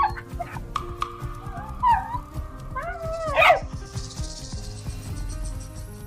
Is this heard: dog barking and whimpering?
yes